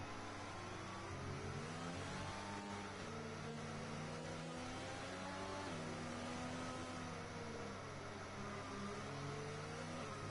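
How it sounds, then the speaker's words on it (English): Racing car engines in an F1 video game on the Vietnam circuit, several high-pitched engine notes stepping down through the gears with falling whines, steady and faint, with no talking. "Down the gears goes Choco."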